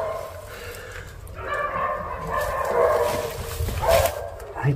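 Several dogs bark and yip intermittently in an abandoned neighbourhood in Barcelona, heard at a moderate distance against steady background noise, with a few sharper bursts toward the end.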